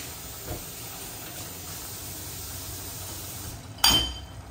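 Raw tilapia fillets drop into a hot cooking pan already holding shrimp. A steady low hiss runs throughout, then a sudden loud sizzle bursts out near the end and quickly fades back down.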